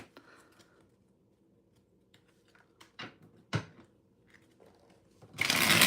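A deck of playing cards being shuffled during a live stream, heard as a short, dense riffling burst near the end after quieter handling clicks and taps.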